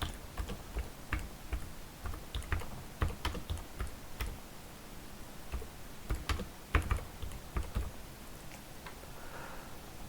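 Rapid, close clicking of keys on a computer keyboard as an answer is typed into a Scratch 3 block, irregular taps with short pauses and no talking.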